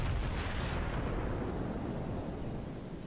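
Naval gunfire in the World of Warships video game: a broad, booming rumble of heavy shell blasts that rolls on and slowly decays over a few seconds, dense and fairly loud with no speech.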